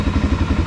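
A Suzuki DR650 motorcycle fitted with a Barrett exhaust idles up close, a loud, low and lumpy thumping beat with a steady pulse through the brief moment.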